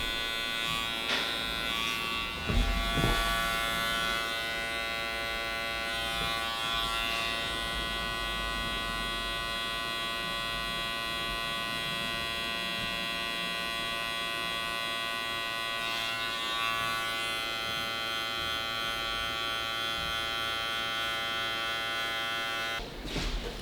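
An electric hair clipper runs through a fade haircut with a steady close buzz that holds for over twenty seconds, shifting slightly as the blade presses into hair, with a few soft handling bumps and no talking.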